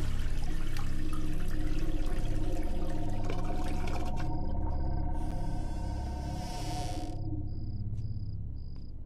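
A toilet flushes in a film scene, a rushing watery swirl under a steady background of crickets that thins out midway, leaving a quieter trickle and faint insect chirps.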